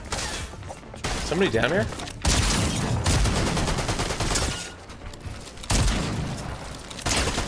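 Gunfire rattles in Fortnite: loud, sustained bursts and rapid shots fill the scene almost continuously, with brief pauses, while a player talks briefly over the action.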